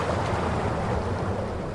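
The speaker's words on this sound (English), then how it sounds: "You hear a grinding noise beneath your feet and the rush of water." In the fantasy role-playing game Pillars of Eternity, a mechanism grinds underfoot as water rushes, making a dense, steady roar of churning water and low rumble that fills the whole moment without any speech.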